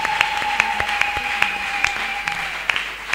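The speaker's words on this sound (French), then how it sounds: "Pouvons-nous acclamer très fort pour le Seigneur?" A church congregation at a Feast of Tabernacles celebration breaks into applause, with steady crowd clapping, sharp individual claps and a sustained tone running underneath.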